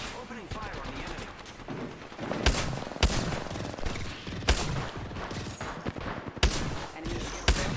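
Gunfire in a battle royale video game: sharp, intermittent shots crack out over a dense, busy wash of game sound, with several louder reports spaced a second or two apart.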